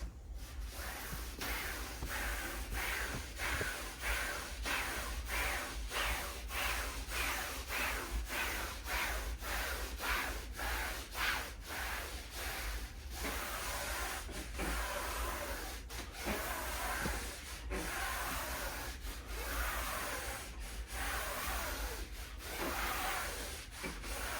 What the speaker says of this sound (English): here's my alcohol wipe. I'll be wiping for 30 seconds.